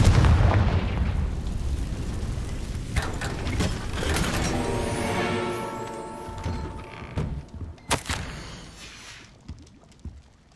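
A Confringo fire spell from Hogwarts Legacy bursts loudly and fills the clip with a dense blast, then rumbles and crackles as it decays, with a few sharp later impacts and no talking.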